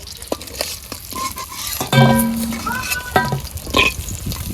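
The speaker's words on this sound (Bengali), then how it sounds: "একদম কড়া কড়া করে ভাজবি এই মাছ" Fish frying crisp in oil in a wok, a sputtering sizzle with clattering stirs and a brief croaky, voice-like tone partway through.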